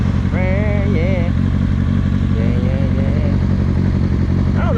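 Kawasaki ZX6R motorcycle riding toward Red Rock lookout, a steady loud engine drone heard from the rider's position with wind rush, while someone talks over it.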